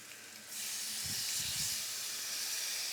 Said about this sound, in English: I'm just frying it up.